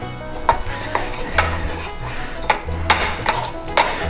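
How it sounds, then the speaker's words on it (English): Ghee warming in a Swiss Diamond crepe pan while being moved around, giving a low background sizzle broken by sharp metallic taps and scrapes every half second or so, close and without talk. "Now notice over here how our ghee is beginning to melt."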